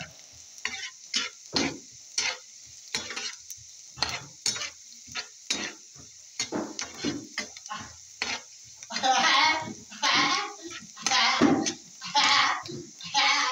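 Bitter gourd with cherry tomatoes sautéing in a pan until light brown: repeated scraping stirs and a steady sizzle, close and fairly loud, with a denser burst of frying in the second half and animal bleats in the background.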